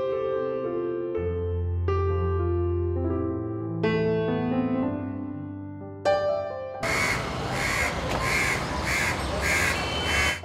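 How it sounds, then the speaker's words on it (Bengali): House crows caw in a string of harsh, repeated calls over a steady tonal background, followed by a louder, rougher stretch of pulsing noise near the end. "কাক সাধারণত বর্জ্য খেয়ে আমাদের পরিবেশ ভালো রাখতে সাহায্য করে"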